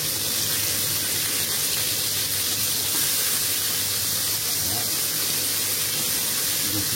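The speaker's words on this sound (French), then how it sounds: "On va maintenant tourner les steaks de bœuf." Turned beef steaks sizzle in a pan with a steady, loud, hissing crackle that holds evenly throughout without pause.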